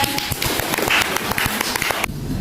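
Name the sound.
applause for group 3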